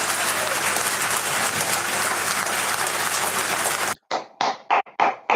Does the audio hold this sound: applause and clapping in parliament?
yes